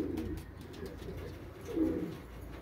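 Cooing from a male pigeon kept by a pigeon keeper, heard near a balcony, with a soft low murmur running throughout and one fuller, louder coo near the end.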